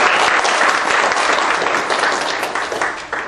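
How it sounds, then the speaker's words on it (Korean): An audience claps steadily after a lecture at an economic policy talk, a loud, dense wash of applause that holds throughout and eases off slightly at the end. "훌륭한 강연 해주신 이기현 최고위원님께 다시 한번 큰 박수 부탁드리겠습니다"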